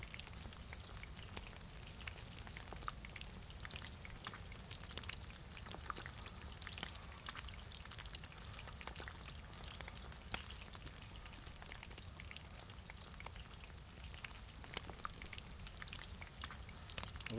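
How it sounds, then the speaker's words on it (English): Steady, faint crackling sizzle of food cooking over a fire in the DayZ video game, a continuous hissing texture with scattered tiny pops throughout. "Wait for the sizzling sound."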